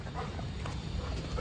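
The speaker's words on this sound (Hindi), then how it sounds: "मैगी भौंक रही है इसलिए क्योंकि बाहर आई है गाय।" A dog barks and yips at a cow outside, amid steady, dense background noise, fairly close and loud.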